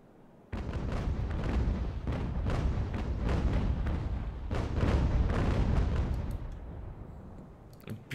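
Sailing-ship cannons fire a broadside in the naval battle game Ultimate Admiral: Age of Sail, a dense rolling barrage of booming shots lasting several seconds before tapering off.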